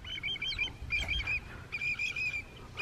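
A bird calls repeatedly by the water at Shell Point Beach in Florida, faint honking cackles in short runs over a low background rumble, no speech.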